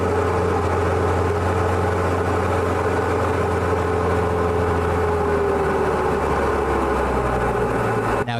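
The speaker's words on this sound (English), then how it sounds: "You can hear the engine powering back, and the nose is coming up." A control-line model airplane engine drones loudly and steadily, then its pitch drops as the throttle powers back, a continuous nearby buzz with no voices.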